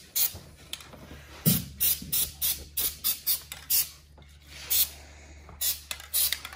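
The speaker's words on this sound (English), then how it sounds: "So I come up and I just give a quick spray." A series of short, sharp hissing sprays of aerosol lithium grease onto a mini Jeep's seat track, several quick bursts in an uneven rhythm, close by with a steady low hum underneath.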